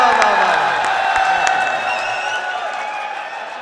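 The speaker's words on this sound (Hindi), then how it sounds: "जोरदार तालियां होनी चाहिए।" Audience applause and cheering at a mushaira poetry gathering in Malegaon, a dense sustained burst of clapping with a few whoops that gradually thins and fades over a few seconds.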